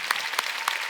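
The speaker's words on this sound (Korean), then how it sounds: "하나님께 박수" A congregation at a Wednesday church service gives a few scattered claps, three sharp distinct hand slaps standing out over a faint murmur of the room.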